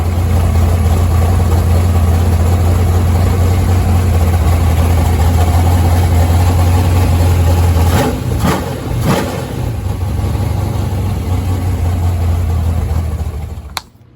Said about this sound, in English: Carburetor's changed, it runs. So it still does that weird thing with the idle where it idles kind of high